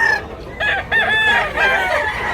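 A rooster crows loudly and close by in Tabunok, Cebu, a single drawn-out call with some clucking around it.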